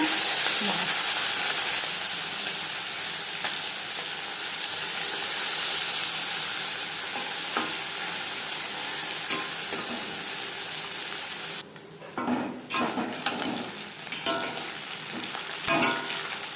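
Small mourola fish rubbed with salt and turmeric fry in hot mustard oil, a loud steady sizzle and hiss that drops off near the end into scattered clatter and stirring.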